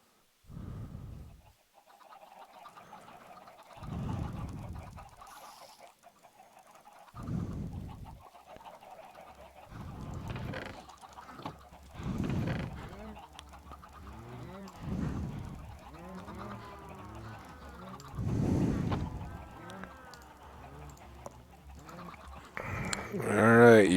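Chickens cluck in the blocky survival game Minecraft, a run of short clucks and squawks repeating at moderate loudness over a low game hum, with a louder burst near the end.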